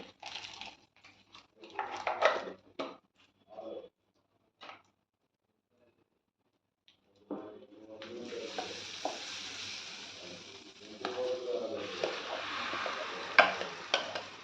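A spoon stirs tempering with asafoetida in a pan for hotel-style ginger chutney: intermittent scraping clicks at first, a brief pause, then a steady, close sizzle with occasional stirring scrapes.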